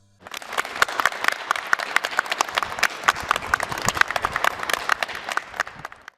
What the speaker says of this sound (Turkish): Alaşehir Devlet Hastanesi personelleri tarafından alkışlarla uğurlandı.